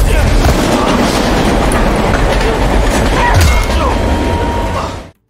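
Moving train in the 2024 action film Kill, a loud, steady rumbling roar with rhythmic clickety-clack of wheels on rails that runs continuously for about five seconds before cutting off abruptly.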